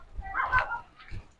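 A dog near fruiting aratilis trees by a railway track gives a couple of short yips or whimpers, close and brief, with a soft break between them.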